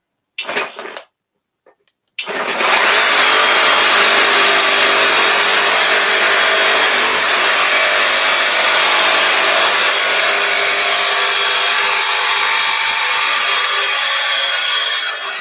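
A FLEX reciprocating saw cuts into rusty metal, starting with two short bursts and then running loud and steady for about thirteen seconds of continuous harsh buzzing.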